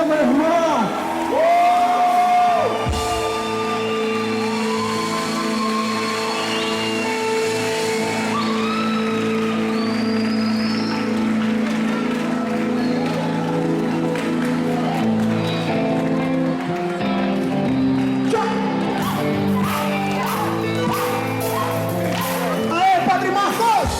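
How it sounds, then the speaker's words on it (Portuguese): A crowd at a parish patron saint festival cheers and whoops with scattered clapping, loud and sustained, under singing and shouted voices that carry throughout. "Aplauda o Senhor, meu irmão"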